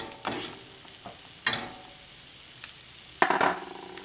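Raspberry chipotle tofu cooks in a pan: a low background sizzle broken by a few scraping bursts from stirring, the loudest near the end, close and without talk.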